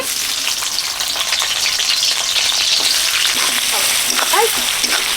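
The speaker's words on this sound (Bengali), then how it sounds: "সাদা তেল দিয়ে দিচ্ছি পেঁয়াজ কুচি" Chopped onions sizzle loudly and steadily in hot white cooking oil, with a few stirring scrapes toward the end.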